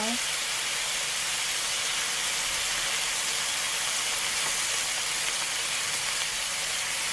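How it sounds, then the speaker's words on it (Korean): Pork belly with deodeok gochujang marinade grilling over a low flame, giving off a loud, steady hiss of sizzling that fills the whole stretch without letting up. "이렇게 됐을 때 양념을 넣고 구워줄 겁니다."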